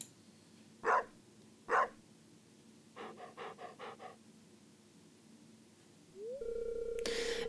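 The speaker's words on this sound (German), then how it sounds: "Siehst du den Hund hier?" Dog in the Stardew Valley farming video game, heard as two short sharp barks followed by a quick run of panting huffs, quiet and clean, then a rising game tone and a brighter chime at the end.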